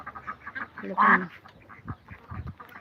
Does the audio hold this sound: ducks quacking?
yes